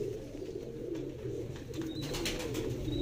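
Pigeons coo softly in low, steady repeated calls, fairly close, with a faint high chirp or two and light background noise.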